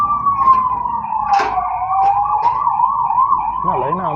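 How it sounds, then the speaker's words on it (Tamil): An ambulance siren wails steadily, rising and falling in long sweeps, loud and close, with a faster yelping pattern near the end. "லைனாக ஆம்புலன்ஸ் போகுது, என்னாச்சு?"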